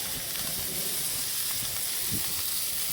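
A rib eye steak sears on a Diamond King smoker grill box with shallot oil, giving a steady hiss and sizzle at moderate level and no talk.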